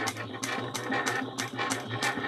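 A sewing machine back-stitches a seam on an Ava pattern sewing project, giving rapid rhythmic mechanical bursts in steady repeated pulses, close and clear with no talking.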